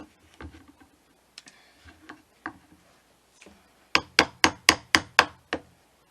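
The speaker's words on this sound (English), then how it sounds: "Now I can take a bigger chisel, just pop those little wedges out." A chisel pops small wood wedges out of a deep inlay cut: about seven sharp, evenly spaced knocks close by in the last two seconds, after scattered softer taps and scraping.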